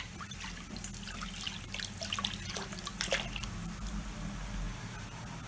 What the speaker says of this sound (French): Donc je mets mon quart de vin blanc,